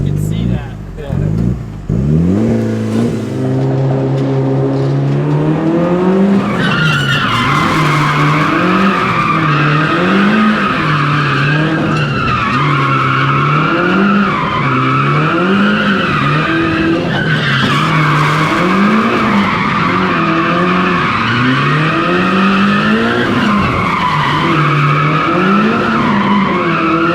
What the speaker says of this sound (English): Yeah, it was drifting.